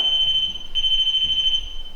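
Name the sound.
REM pod ghost-hunting device alarm sounding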